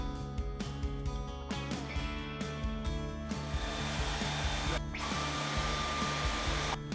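A vacuum cleaner sucks baking soda off a mattress, its motor giving a steady, close whining drone with brief bumps and dips as the nozzle moves across the fabric.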